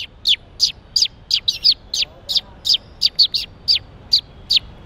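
A man vocally mimics a female sparrow, producing a quick series of about fifteen sharp, high chirps in an uneven rhythm, close and clear against a quiet background.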